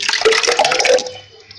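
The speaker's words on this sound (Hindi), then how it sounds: "तो आइए ब्लेंडिंग जार में सबसे पहले मैं यहाँ पर डालूँगी दही" About 500 grams of curd yogurt is poured into a blender jar, a loud, close, wet glugging pour that lasts about a second and then fades to quiet.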